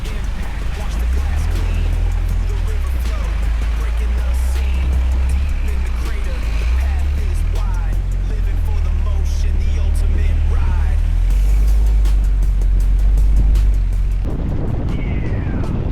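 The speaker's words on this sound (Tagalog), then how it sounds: "Ang sinasakyan pala natin ay special modified 4x4 jeeps." Special modified 4x4 jeep driving through the lahar, boulders and streams of Crow Valley near Mt. Pinatubo, with a loud continuous low engine drone, wind buffeting and rattles throughout.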